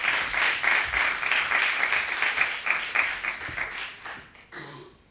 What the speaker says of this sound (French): Purushottam, s'il vous plaît, applaudissez-le bien fort.